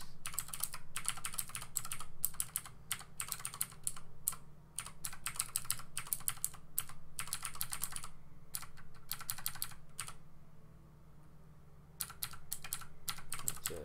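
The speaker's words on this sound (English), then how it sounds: "Sorry for the keyboard strokes." Fast, steady typing on a computer keyboard fills the scene, close and clicky, with bursts of keystrokes broken by brief pauses and no voice over it.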